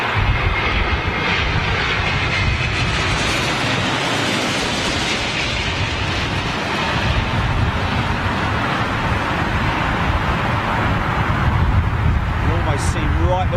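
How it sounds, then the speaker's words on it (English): A Rolls-Royce Trent 1000 jet engine roars loud and broad on an aircraft at windy Heathrow, a sustained whooshing rumble filling the whole span with voices talking over it. "This is the Trent 1000 engine."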